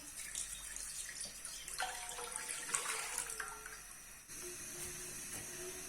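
About 1.5 litres of milk is poured into a pan for carrot kheer, a soft, steady liquid stream with a brief change in pitch partway through, quiet and close, with no talking.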